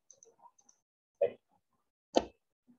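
Two distinct mouse clicks about a second apart, crisp and close, in an otherwise quiet background.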